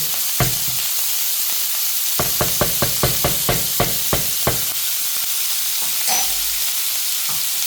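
Lamb chops frying in butter in a pan give a steady hiss and sizzle throughout, broken by a run of about a dozen quick, sharp knocks, as if a utensil taps the pan, with no talk.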